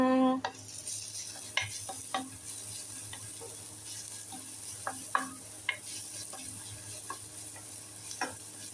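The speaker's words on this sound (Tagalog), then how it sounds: "Tapos yung ginigisa na natin ng ating sibuyas, bawang." Chicken sautéing with onion and garlic in a pan, a steady low sizzle broken by scattered stirring and utensil clinks, fairly quiet and close with no talking.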